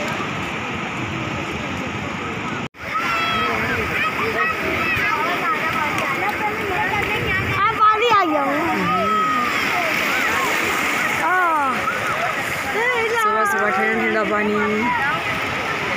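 Steady broadband splashing and sloshing of people wading through cold morning sea water at Clifton Beach, Karachi, continuous and close, with voices talking and calling over it throughout.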